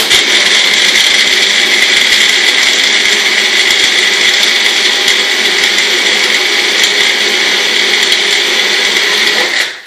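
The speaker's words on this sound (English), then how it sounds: "pop it into the blender" A blender runs continuously at high speed blending an ice shake, a loud steady whirring grind that holds for several seconds before cutting off at the end.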